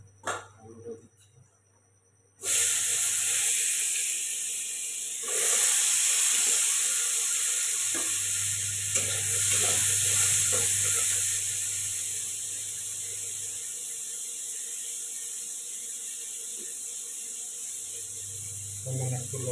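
Potatoes and pointed gourd frying in a pan give off a loud, steady hiss and sizzle that starts abruptly and runs on, swelling and easing slightly, with a low voice speaking faintly underneath at times.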